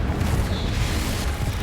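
A Confringo blasting spell goes off in the Hogwarts Legacy video game, a loud, low, rumbling boom that stays heavy and sustained for under two seconds.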